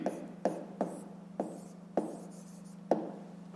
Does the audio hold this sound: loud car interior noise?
no